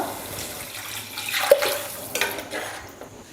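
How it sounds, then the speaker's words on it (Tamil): Water splashes and trickles into a pot of sautéed ingredients for agathi keerai soup for a few seconds, close by, with small clinks of metal. "இப்போ தண்ணி சேர்த்துக்கலாம்"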